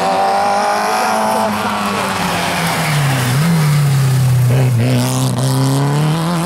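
An Autobianchi A112 racing a slalom course revs hard and loud throughout, the engine note rising and dropping through gear changes and braking, with tire squeal mixed in near the end.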